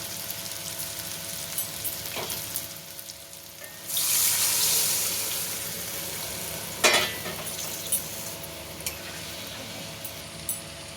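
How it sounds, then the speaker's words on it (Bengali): Warm water is poured into simmering katla fish curry masala, a brief rushing splash burst over a steady background sizzle, followed by a few clinks and stirs. "এবারে এর মধ্যে আমরা হালকা গরম জল দেব"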